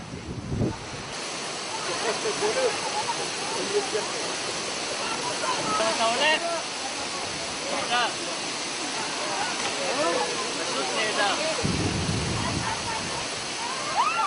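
Steady roaring rush of a spring-fed waterfall in Galilee, Israel, fills the scene, broad and continuous, with brief voices and wind buffeting the microphone now and then.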